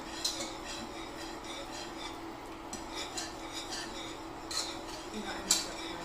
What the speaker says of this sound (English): I'm just going to give that a little stir. We just want to melt this down.